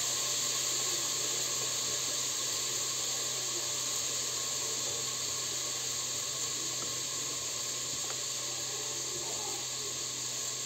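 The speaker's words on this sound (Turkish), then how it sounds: "Şöyle etimiz biraz yağda çevrilsin." A steady, close sizzle of meat frying in hot oil for Turkish bean stew, a continuous hiss that holds evenly throughout with no one speaking.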